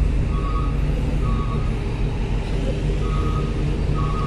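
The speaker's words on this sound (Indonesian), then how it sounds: "Cuman ada beberapa truk yang di lapangan parkir depan kapal" Trucks reverse in a ferry port parking lot, their repeated paired beeps sounding at regular intervals over a loud, steady engine rumble and background noise.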